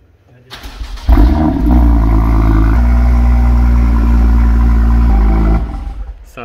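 A BMW M car in a showroom fires up with a loud starter burst, then settles into a deep, steady roar held for several seconds before dropping off, very close and dominant.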